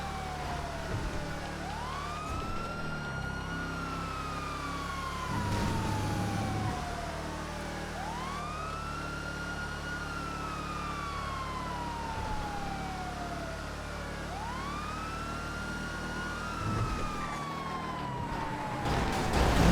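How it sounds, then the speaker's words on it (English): A police siren in a GTA FiveM video game wails in a repeating rising-and-falling pattern over a steady engine drone, loud and continuous for the whole stretch. "we can have some wee woos and your siren emotes"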